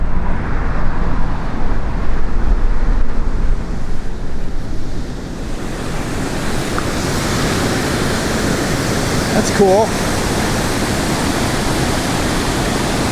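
Water of the San Gabriel River pouring over a series of small concrete dams, a steady broadband rush heard close, with a brief spoken remark near the end.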